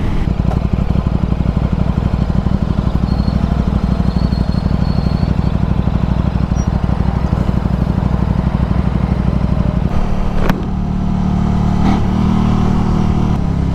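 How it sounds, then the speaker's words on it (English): A motorcycle engine drones loudly and steadily up close, with wind rush, then a brief sharp burst as another vehicle roars by. "A fellow motorcycle commuter,"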